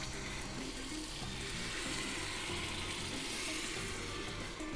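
Coconut cream poured into bubbling caramel in a pan, producing a soft continuous hiss and bubbling sizzle with a faint watery pouring texture, fairly quiet and steady without speech.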